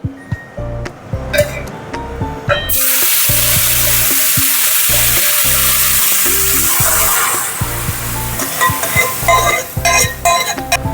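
Dal poured into hot oil in a pressure cooker sets off a sudden loud, steady sizzle lasting several seconds, framed by metallic stirring clinks and scrapes before and after.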